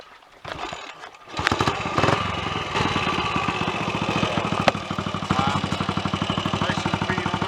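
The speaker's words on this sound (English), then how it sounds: "Hot start coming up, hopefully." A Royal Enfield 250 motorcycle with a monoblock carburettor is hot started: a brief cranking, then the single-cylinder engine catches and settles into a loud, steady, thumping idle close by.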